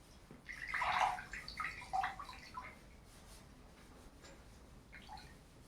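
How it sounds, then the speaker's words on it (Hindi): Liquid drips and trickles off a plastic sanitary pad in a few quick wet patters, louder at first and then fading to a faint, sparse dribble, close by with no talking. "ये देखो आप किस तरह से ये टपक रहा"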